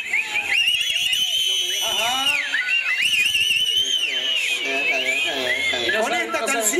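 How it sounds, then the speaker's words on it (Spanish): Men in a concert audience whistle loudly at a show: many shrill, overlapping whistles slide up and down over crowd noise throughout. "todos los hombres, chiflan"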